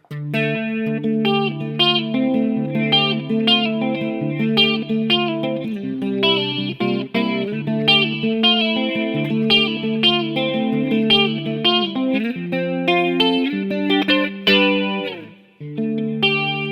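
A Kiesel Aries custom electric guitar plays a clean-toned passage of ringing chords and melodic notes, steady and prominent with no other sounds.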